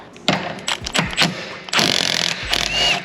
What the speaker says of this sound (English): we're gonna go ahead and zap this 18mm 12-point nut off